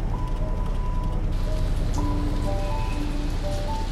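Rain falls steadily as continuous broadband patter under a soft musical tone bed, with no voices.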